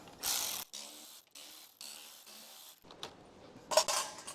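A ratchet removes 5/16 screws from a fuel pump, giving several bursts of close clicking separated by short pauses, with a louder cluster near the end.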